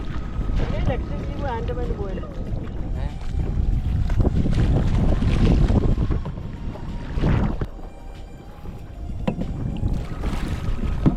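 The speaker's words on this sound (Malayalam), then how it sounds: "നമ്മൾ കയാക്ക് ചെയ്യുന്നത് പുഴയിലോ കായലിലോ തോട്ടിലോ എന്നല്ല, നല്ല ഫസ്റ്റ് ക്ലാസ് കടലിലോ" Kayak paddling on the open sea off Palolem Beach, Goa: paddle strokes and water splashes under steady wind buffeting the microphone, with bursts of louder splashing and faint voices nearby.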